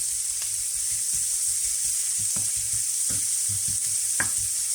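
Tortilla filling sizzles steadily in a frying pan while a utensil stirs it, scraping and tapping against the pan in irregular bursts over a constant hiss, with no talking.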